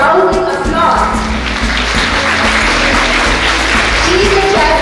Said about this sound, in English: Please give us a rousing applause.